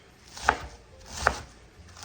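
A knife chops cabbage on an old wooden cutting board for coleslaw, two crisp, evenly spaced thuds close up in a quiet room.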